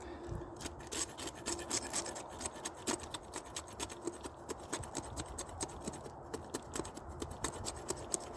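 Hondo knife shaving thin flat curls from wood, a close, quiet, steady series of rapid rasping scrapes continuing throughout with no talk.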